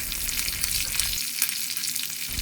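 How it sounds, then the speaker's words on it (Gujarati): Fresh fenugreek leaves sizzle and fry in a hot tempering for kadhi as a spoon stirs them, a steady close-up crackle with light scraping. "તો લાસ્ટમાં મેથીના પાન નાખીને આ રીતે ચમચી વડે બધું એક વખત સરસ મિક્સ કરીને સાંતળીને આપણે તેને કઢીમાં વઘારને મિક્સ કરી દઈશું."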